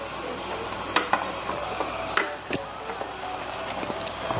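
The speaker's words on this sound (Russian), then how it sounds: "когда мы варим уже шампиньоны с болгарским перцем, и потом к нему сразу же добавляем наши креветки" Mushrooms and bell pepper simmering in a pan with shrimp added, a steady close sizzle with stirring and utensil scrapes throughout, no voices.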